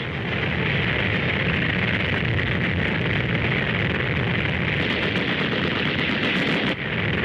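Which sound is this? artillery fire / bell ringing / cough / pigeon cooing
artillery fire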